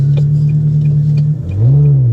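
A Ferrari 360 with Capristo exhaust and 19-inch Challenge wheels revs loudly and close up, holding a deep steady drone before dipping and swelling into a second rising rev.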